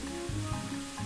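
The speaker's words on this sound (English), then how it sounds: "They make a sizzling sound." Steady sizzling and frying hiss from wet towels laid on a hot beach in the Curse of Monkey Island game, soft and continuous over a faint low hum.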